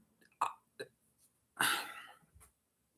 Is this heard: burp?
yes